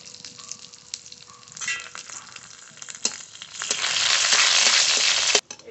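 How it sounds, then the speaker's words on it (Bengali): Garlic cloves, dried red chillies and whole cumin seeds fry in a little hot oil, a soft sizzle with small crackles that swells into a steady, louder hiss near the end before cutting off abruptly. "একটু তেল, 4টে রসুনের দানা, 2টো শুকনো লঙ্কা, গোটা জিরে কটা একসঙ্গে ভেজে নেব"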